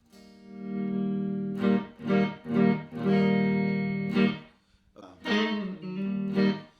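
A clean Friedman electric guitar amp tone playing sustained chords and single notes, dry and warm with no compression, reverb or other effects, ringing between short pauses.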